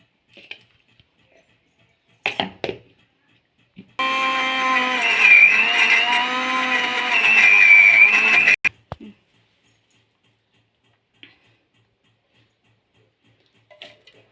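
A mixie blender grinds batter with banana flower for vadai, a loud motor whir lasting about four and a half seconds, set between sparse clicks and clatter of the jar in a quiet kitchen.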